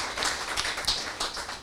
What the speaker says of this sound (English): Round of applause to the college.